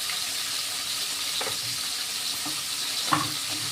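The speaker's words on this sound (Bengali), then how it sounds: "মাছটা দিয়ে দেবো কড়াইতে, সবগুলো ধরে গেলে একসঙ্গেই দিয়ে দেবো।" Fish fries in a large kadai, a steady loud hiss of hot oil with occasional soft pops and spatters, continuous and close with no talk.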